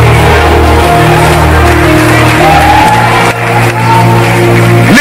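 A church congregation clapping and shouting during a sermon, a loud, close crowd of whoops and yells layered over sustained tones, briefly dipping midway before swelling again.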